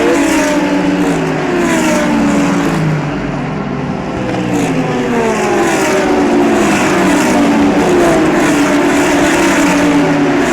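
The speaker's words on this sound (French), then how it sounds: "Le départ de la course est donné." GT3 race cars start the GT World Challenge race at Imola, their engines blending into a steady, loud roar that rises and falls with revving and passing engine notes throughout, and no voices are heard.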